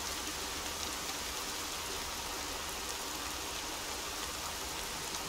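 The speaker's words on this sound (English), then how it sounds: "It's raining raining." Steady, hissing rainfall in the video game Horizon Zero Dawn, constant and even throughout, sounding like a dense downpour with no voices over it.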